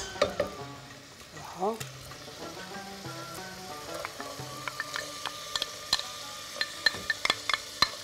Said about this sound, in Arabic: ها هو وقتو نزيد البصل.